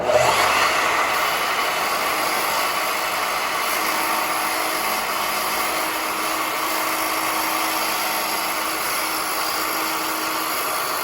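Power saw cutting a wooden stair tread for a mitre return gives a steady, loud whine and rasp up close that stays constant throughout, with no voices.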